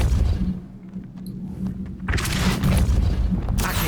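A Depulso force-push spell cast in the Hogwarts Legacy video game, a loud booming blast that surges after about two seconds and fills the rest of the clip with a heavy, sustained rumble.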